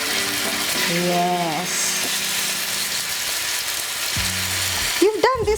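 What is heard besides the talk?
chicken wings frying in oil on double grill pan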